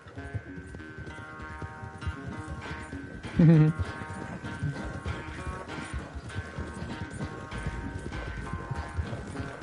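A horse gallops in Red Dead Redemption 2, a continuous rhythmic clip-clop of hooves with a brief louder burst midway, running under game music and someone talking.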